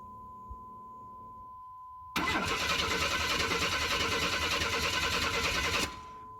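A Chevrolet Blazer's starter cranks the engine steadily for about four seconds, loud and close, over a faint constant electronic tone, then stops without the engine catching.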